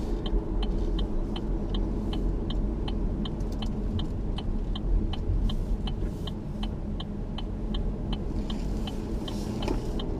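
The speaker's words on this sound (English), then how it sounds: "today I'm driving the 2018 Holden Commodore RS station wagon" Inside a 2018 Holden Commodore RS station wagon on the road, a low, steady engine and road rumble continues while an indicator ticks in an even, regular rhythm.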